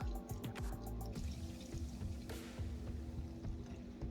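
Whole milk being poured into a banana pudding mixture in a home kitchen, a soft steady liquid trickle with a few drips, under a constant low hum.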